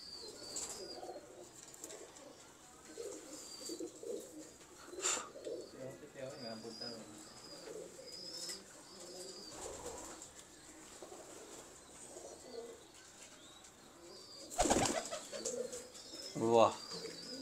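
Pigeons coo softly in a loft, low repeated calls spread through the scene with occasional wing flaps, mixed with nearby people talking and a couple of louder close knocks.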